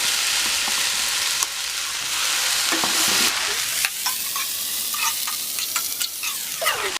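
Chopped okra fries over medium heat, a bright sizzle with frequent spatula scrapes and stirs against the pan, close and loud with no talking.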